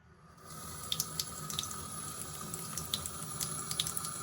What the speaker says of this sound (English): Listening to the sound of water running.